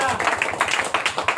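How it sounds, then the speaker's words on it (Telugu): A church congregation at a pastor's sermon claps in a brisk, regular beat of sharp hand claps, with a voice talking over it. "గట్టిగా చప్పట్లు కొట్టాలి."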